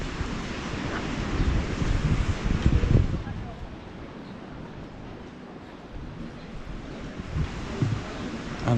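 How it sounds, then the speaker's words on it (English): Waves surging and rolling in on a windy beach in Paguera, Mallorca, with steady wind buffeting the microphone, the noise swelling and easing over several seconds. "And the sea's looking fantastic, some nice waves."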